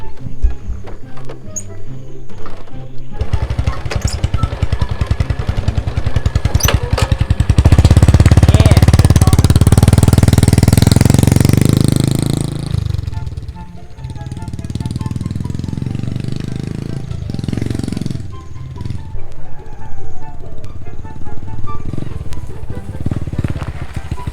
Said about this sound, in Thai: ผมก็เป็นเสียงท่อตอนขี่เนาะตอนขี่แบบธรรมดาก็ เหมือนเครื่องสูบน้ำไหมทุกคน